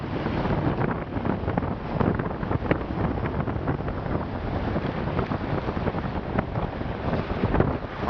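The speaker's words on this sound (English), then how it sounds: "You can hear the wind ripping." Strong wind roaring across a microphone on a boat on San Francisco Bay during striped bass fishing, a steady loud rumbling buffet that continues without a break and carries no voices.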